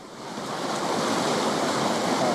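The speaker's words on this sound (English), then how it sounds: "the raging river, rushing down hills, sweeps along all sorts of natural debris, including chunks of ice that haven't melted yet" A raging river in Colorado rushes down hills carrying debris and chunks of unmelted ice, a steady, loud, broadband roar of churning water with no voices.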